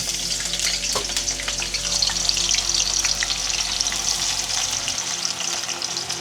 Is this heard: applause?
no